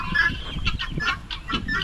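Newly arrived guinea fowl on a hillside farm give a run of harsh, rhythmic repeated calls, close and fairly loud, with overlapping cries from the flock.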